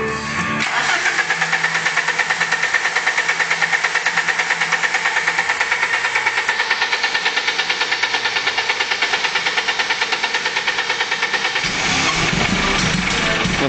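BMW 318 E30 with an M40 engine being cranked over and over by the starter, a fast steady rhythmic whirring churn that runs for many seconds, loud and close, shifting near the end as it tries to catch.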